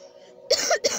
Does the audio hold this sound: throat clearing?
yes